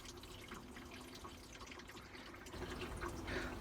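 Water drains and trickles through the bottom of a bathtub worm farm, a soft, steady running sound that swells slightly toward the end.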